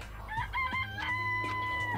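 Chickens in the video game Danganronpa: Trigger Happy Havoc give drawn-out crows and quick clucks. The calls are layered, close and fairly loud, and a low hum runs underneath.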